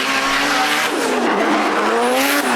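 A 400 hp SR20-engined drift car at a drift competition qualifying run, its engine roaring loudly under aggressive throttle, pitch rising and falling with tire squeal throughout.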